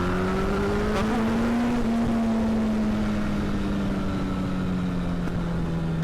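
A Yamaha FZ8 motorcycle engine with an Akrapovic exhaust runs steadily and loudly up close, a continuous low drone with a slight rise in pitch, no voices over it.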